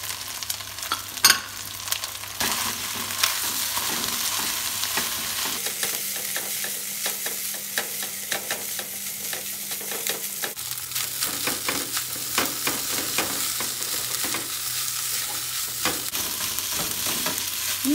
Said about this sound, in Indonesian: Ini diaduk sampai rata ya.